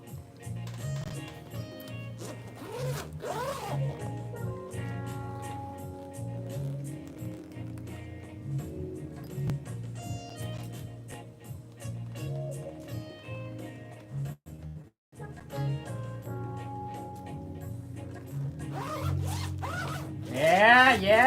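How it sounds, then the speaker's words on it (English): A zipper on a water-resistant keyboard gig bag is pulled repeatedly in short scratchy runs, including around a corner, close up over background music, with someone talking intermittently. "Yeah, me zipping, man."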